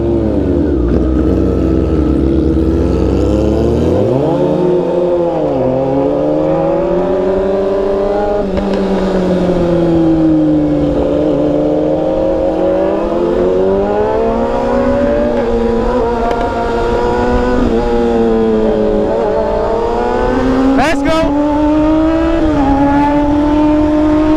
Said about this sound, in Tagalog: bilis nito magmotor ah